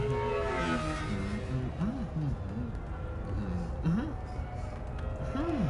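A car drives in a Mass Effect 2 video game cutscene, its steady engine hum running continuously beneath voices talking throughout.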